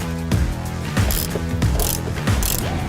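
A ratchet fitted with a Torx 50 bit loosens the lower seat belt bolt inside a 2003-2007 Ford F-250 crew cab, giving four close, loud bursts of rapid clicking at an even pace with no talking.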